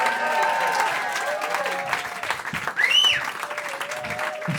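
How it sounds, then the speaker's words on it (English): A comedy club audience applauds a first-time comedian. Dense clapping and crowd noise are joined by a sharp rising whistle near the middle and some voices underneath. "Give her another round of applause."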